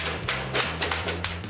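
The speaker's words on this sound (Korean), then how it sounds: "수백 번 반복되는 망치질." Aluminum panels are hammered together so the grooves lock tight while a steel-framed portable house is built. Rapid, repeated hammer blows ring out close and loud, with no talk.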